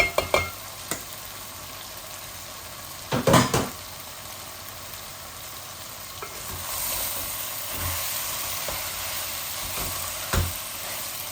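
Garlic frying in hot oil in a pan for a baghar tempering, a steady sizzle with several sharp clatters of a spoon against the pan and a brief louder hiss partway through.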